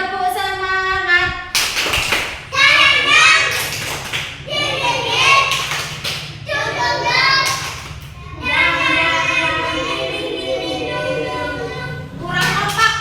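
Young preschool children doing the tepuk semangat clapping chant in a classroom, bursts of hand claps and thumps mixed with chanting voices and an adult leading nearby.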